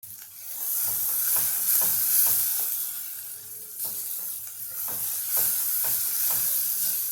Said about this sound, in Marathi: आपण आता हा मसाला सातळून घेऊया या मसाल्याला तेल सुटेस्तवर आपल्याला वाट बघायची आहे